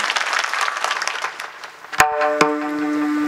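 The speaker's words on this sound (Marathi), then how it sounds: "कोकिळांसाठी टाळी वाजवा जरा जोरात एकदा" Audience applause at a devotional kirtan gathering, a dense crowd clapping for about two seconds before it breaks off into sharp struck tones and a sustained harmonium-like drone.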